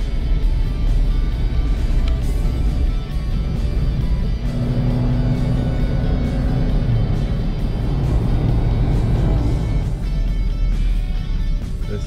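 A vehicle drives along a country road about 100 kilometres north of Perth, a loud, constant engine and road rumble that swells slightly midway with no talk.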